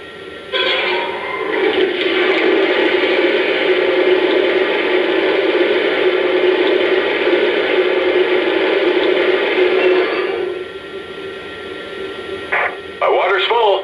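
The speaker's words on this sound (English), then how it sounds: "Here's the sound of water being added to the tender." Water filling the tender of a Lionel 2-8-0 Consolidation model steam locomotive, Southern #630, heard as a steady rushing hiss lasting about ten seconds before cutting off, followed by a brief crackly radio-style burst.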